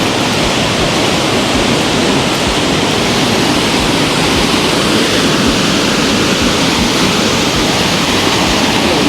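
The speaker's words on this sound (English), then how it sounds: "Well, the river is not so bad today." Rushing river water flowing with some force, a loud, steady broadband roar that fills the whole stretch without pause and with no voices over it.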